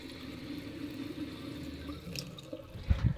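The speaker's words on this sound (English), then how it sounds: "I now have running water." Tap water running into a small sink in a camper van build, a soft steady trickle that ends with a few louder splashing drips near the close.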